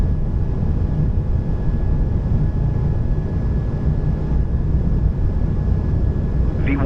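Airbus A220-300 jet engines at takeoff thrust on a delivery flight from Montreal Mirabel, a loud steady roar and broadband rumble heard from the cockpit, with a faint tone running through it.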